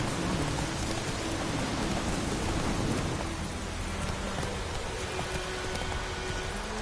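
Steady rain pours in The Witcher 3: Wild Hunt video game, a dense continuous hiss filling the whole stretch, with a low rumble beneath that suggests distant thunder.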